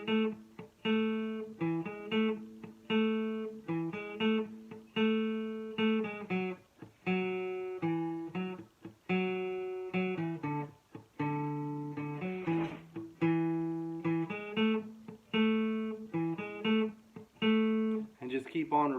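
A guitar plucks a repeating bass line, with clear, moderately loud single notes in a steady looping rhythm and no voice over them.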